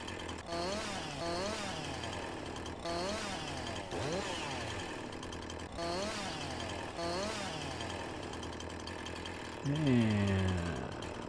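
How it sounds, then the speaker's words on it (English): A chainsaw cutting tree limbs in Farming Simulator 19, its engine revving up and down in repeated cycles, loud and continuous, with a stronger rev near the end and a voice faintly underneath. "Chainsaw vibrated things off my desk."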